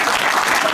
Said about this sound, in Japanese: 皆様どうぞもう一度盛大な拍手をお願いいたします